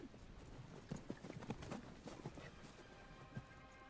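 Horse hooves clip-clopping at a steady riding pace in a video game, a run of distinct, fairly soft hoofbeats over a low ambient bed.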